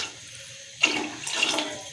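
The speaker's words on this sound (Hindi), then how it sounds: "2 लीटर पानी डाल दिया हमने।" Water splashes into a cooking pot for matar chicken pulao, a brief gushing pour that starts abruptly and continues steadily for about a second, close and alone.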